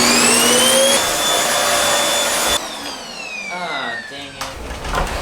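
Vacuum cleaner running on a hardwood floor in a home in Japan, a loud steady whine with shifting motor pitch that drops partway through, then continues at a lower level with small bumps and knocks.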